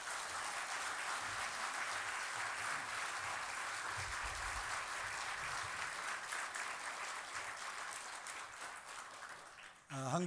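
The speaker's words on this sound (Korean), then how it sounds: "뜨거운 박수로 맞이해 주시기 바랍니다." A church congregation applauds warmly for a missionary, with even, continuous clapping that thins out near the end before a sudden thump.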